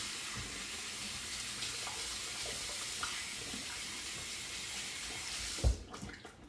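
Shaving brush knot wetted under a running tap, a steady faucet stream splashing at close range for several seconds, ending with a brief louder splash and clatter.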